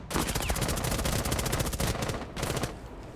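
Rapid automatic gunfire in Rainbow Six Siege rattles loudly and without pause for about two seconds, stops briefly, then returns in a shorter burst before fading.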